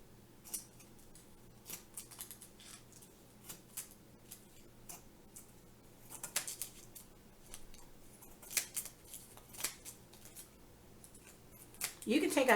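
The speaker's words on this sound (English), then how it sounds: "I'm just going to take some scissors and cut off this extra on the end" Scissors trim excess material off the end of a Dollar Tree color mirror box craft, giving a run of soft, irregular snips and clicks with quiet speech in the background.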